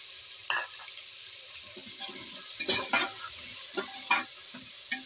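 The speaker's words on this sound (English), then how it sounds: "put now this one, dried green peppers, coriander seeds, fenugreek seeds, cumin seeds, and this is chili powder, salt, turmeric powder" Spices for chicken karahi, among them dried green peppers, coriander, fenugreek and cumin seeds, chili powder, salt and turmeric, sizzle and fry in a pan, with a steady hiss broken by bursts of stirring and scraping.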